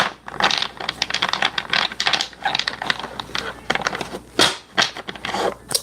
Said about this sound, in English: Let me wash these cards so that they fall where they may.